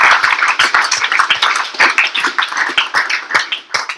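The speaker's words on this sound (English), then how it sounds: "Can I get another round of applause for all of our speakers and our additional speakers?" A small audience at a local tech meetup gives the speakers a round of applause, with close, fairly loud and somewhat sparse individual claps patterning unevenly throughout.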